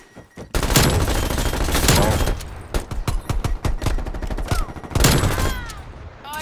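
Sustained automatic gunfire in a hardcore domination match of Call of Duty: Black Ops Cold War, loud rapid bursts from several weapons that overlap and keep going, with brief shouts mixed in.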